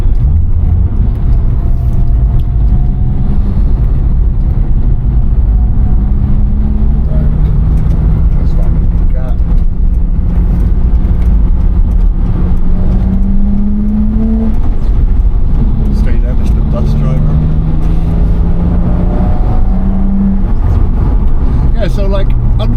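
A 1989 BMW E30 325i Sport idles and revs steadily up close, its engine note rising and falling in smooth sweeps for the whole stretch, with someone talking over it.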